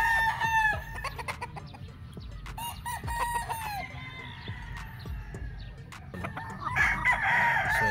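A gamefowl rooster, a yellow-legged street comb cross, crows several times at a game farm, loud and nearby, with clucking and other fowl calls scattered between the crows.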